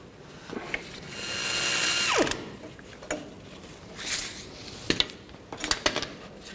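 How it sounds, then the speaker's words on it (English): A 16mm socket ratchet loosens a suspension link nut on a 2007-2015 Chevy Silverado 1500, giving a sustained ratcheting buzz followed by scattered metallic clicks and clinks from the socket and nut. Close and moderately loud, with no talking. "this one's a 16mm, so use a socket on the top. And take it off"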